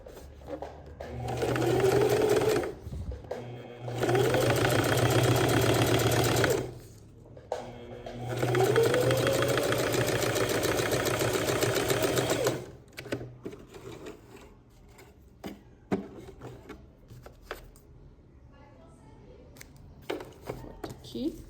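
A sewing machine stitches seams on a children's multi-purpose pouch with a plastic pocket, running in two fast, loud whirring bursts separated by a short pause, then falling quiet to small handling noises and low voices.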